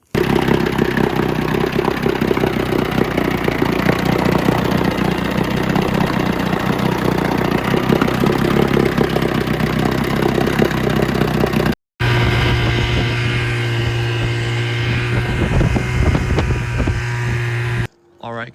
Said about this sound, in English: Perfect time to reveal the new engine.